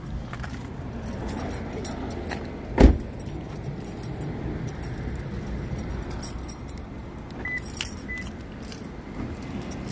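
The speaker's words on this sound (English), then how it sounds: "If I can find my keys," A set of keys jangles once, a short bright metallic rattle near the start, over the steady low hum of an idling car at a roadside stop on the I-15 between Barstow and Las Vegas; a voice speaks briefly.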